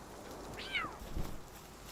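A cat meows once in the video game Palworld, a short, clear, rising-then-falling cry that stands out over a low, steady game background.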